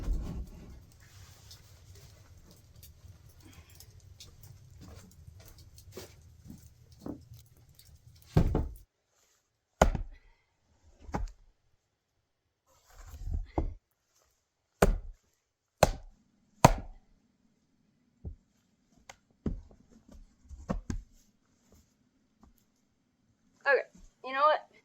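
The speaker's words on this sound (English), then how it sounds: "So now it is back to chopping." Sharp, separate chopping strikes ring out one at a time in irregular succession outside a snow-covered hut during a snowstorm, with a low steady rumble in the opening seconds and a brief burst of speech near the end.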